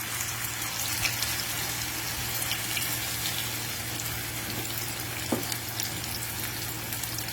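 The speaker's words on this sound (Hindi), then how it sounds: "ये डीप फ्राई होगा, इसलिए ऑयल थोड़ा ज़्यादा लिया।" Potato chips omelette mixture deep frying in a generous amount of oil, a soft continuous bubbling sizzle with an occasional faint knock, steady and unbroken with no talking.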